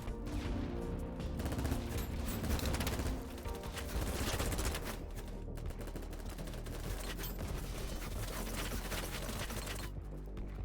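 MP7 submachine gun fire in Battlebit Remastered, sustained and dense, with rapid bursts and mechanical clicks running under a steady barrage of game combat noise.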